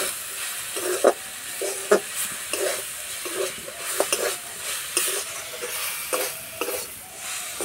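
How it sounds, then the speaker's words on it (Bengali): Leafy greens are stir-fried in a wok, with a constant sizzle and regular scraping stirs of a spatula against the pan, several strokes spread evenly through the clip, loud and close with no voices. "এইভাবে নাড়াচাড়া করে শাক ভেজে নেব।"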